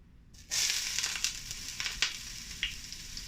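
Onions drop into hot olive oil in a pan over high heat, bursting into a loud, steady sizzle after a brief quiet start, with a few sharper crackles and spits along the way.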